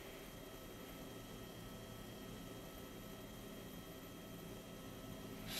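Steady, even roar of a helicopter in flight heard from inside the cabin in the DayZ mod game, a constant broadband drone with no voices.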